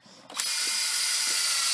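A power drill spins up and bores steadily into a historic hemlock log, a loud continuous whirring grind after a brief clicking start.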